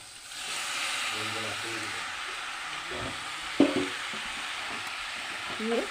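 Duck meat frying in a pan with turmeric, red chilli, cumin and coriander powder, giving a steady broadband sizzle throughout, with occasional stirring clinks and a sharp knock near the middle, plus faint background voice.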